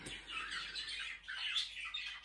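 Budgerigars kept as a hobby at a village home chirp and squawk, with several birds overlapping in quick, bright, fairly quiet calls and no voices.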